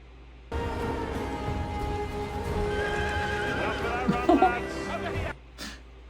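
A horse whinnies loudly and close, a long wavering neigh followed by a brief snort and hoof sounds, with voices mixed underneath.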